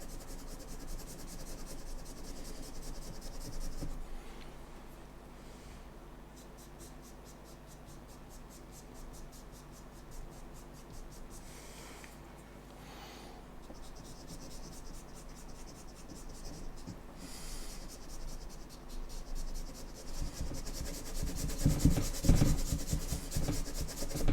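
Graphite drawn on paper makes a soft, continuous scratchy rubbing that goes on and off over a steady background hum, growing a little louder toward the end.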